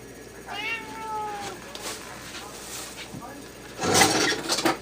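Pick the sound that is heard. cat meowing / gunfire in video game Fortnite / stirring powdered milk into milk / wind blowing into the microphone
cat meowing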